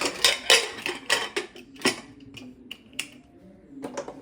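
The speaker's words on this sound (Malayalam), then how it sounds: "ഈ കുക്കർ അടയ്ക്കുക." Metallic clanks and clicks of a pressure cooker lid being fitted and locked, a quick burst of rattling followed by a few sparser taps.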